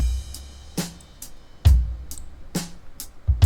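A drum bus run through FL Studio's Soundgoodizer plugin plays alone: heavy, punchy kicks and crisp snare hits in a slow, steady pattern, full and saturated.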